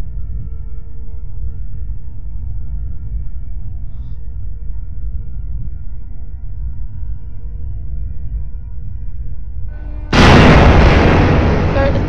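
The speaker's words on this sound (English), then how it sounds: "First explosion." After a long low rumbling hum, a sudden loud reactor explosion in the Roblox Chernobyl game bursts in near the end and rolls off in a noisy decaying roar.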